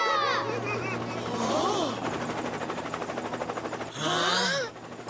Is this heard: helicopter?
yes